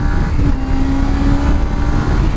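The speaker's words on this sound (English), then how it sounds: "Another thing about this engine, just listen to it. This is a 2-cylinder." A Suzuki V-Strom 250 two-cylinder motorcycle engine idles close by, a continuous low rumble with a faint whine on top, running evenly without revving.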